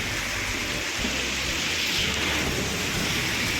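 Heavy rain pours down in a thunderstorm while someone is out riding a bike in traffic. It is a dense, constant hiss with low thunder rumbling underneath and no voices.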